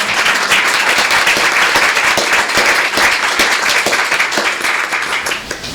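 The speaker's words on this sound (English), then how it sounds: "Kris, I'll just ask you to stand up for a minute so we can just give you a round of applause." Loud, close round of applause from an audience honoring a standing guest, a dense wash of many hands clapping steadily for several seconds before easing slightly at the end.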